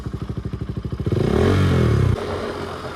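A motorcycle engine chugs in a fast, even idle pulse, then revs up into a loud, steady roar before settling to a lower drone, heard up close.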